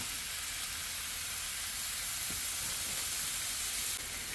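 Shrimp frying in hot oil in a home kitchen, a steady close sizzle with a constant hiss and a few faint pops, no talking.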